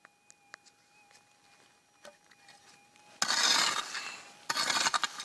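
Gravel being scraped at the Jupiter Creek goldfield, loud broadband rasping bursts that start after a quiet stretch of faint ticks and clicks, two close, gritty scraping passes.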